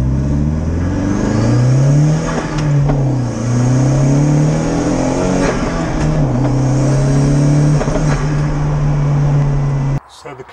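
A turbocharged Smart car fitted with an AGU engine revs loudly and close up, its pitch rising and falling repeatedly over about ten seconds before it abruptly drops away.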